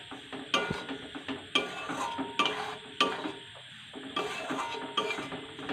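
A spoon scrapes and clanks against a pot while rice flour is stirred into ghee, a close, rhythmic series of about eight metallic knocks with soft scraping and a faint sizzle between them, no talking.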